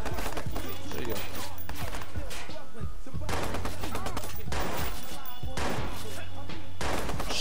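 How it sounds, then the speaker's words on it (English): Loud bursts of automatic gunfire in the Watch Dogs video game come in three heavy volleys separated by short pauses, with a person talking over the shooting. "Why are you shooting?"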